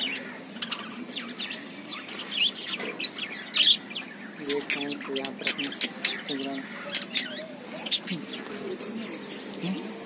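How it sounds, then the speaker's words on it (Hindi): A small bird chirps in short, sharp repeated tweets from an enclosure at a science city, with a busy indoor background of murmuring voices beneath the calls. "ये चिड़िया यहाँ पर है।"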